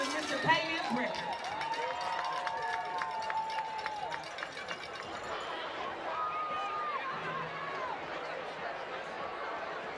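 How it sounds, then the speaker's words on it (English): Crowd at a high school football senior night cheering and making noise for the seniors, a broad roar of voices and whoops with a PA announcer talking over it at times. "Y'all give it up, make some noise for these seniors"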